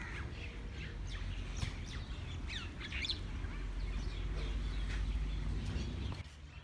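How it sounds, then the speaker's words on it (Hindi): Birds perched outdoors chirp and tweet in quick repeated calls over a steady low background hum, moderately close and without talk. "इधर चिड़िया वगैरह बैठी हुई हैं, कितनी अच्छी साउंड आ रही है इसकी।"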